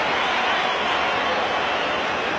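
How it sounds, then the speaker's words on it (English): A packed capacity cricket crowd at the Wanderers, roaring and cheering in a steady, loud wash of massed voices with no breaks. "Loud cheer again from the capacity crowd of the Wanderers"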